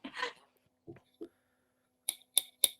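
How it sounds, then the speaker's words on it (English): After a few brief spoken sounds, a pair of director's scissors used as a game show buzzer gives three sharp, crisp snips in quick succession, close and clear. "he's got the director's scissors."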